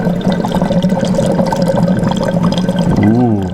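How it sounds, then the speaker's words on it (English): Dry ice bubbling furiously in liquid inside a flask gives a steady, loud, continuous churning fizz, with a voice briefly heard near the end. "and here, it's bubbling pretty furiously. So the bubbles are all of that gas escaping."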